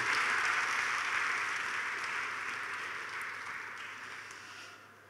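A comedy show audience claps steadily, a broad wash of applause that slowly fades toward the end.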